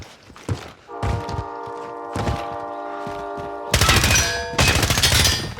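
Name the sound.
gunfire in a video game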